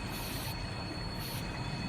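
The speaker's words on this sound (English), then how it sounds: "now I slam the train brake into lap" A Class 42 Warship locomotive in Train Simulator brakes, and its wheels give a steady high squeal over continuous rail rumble that is moderately loud with no talk.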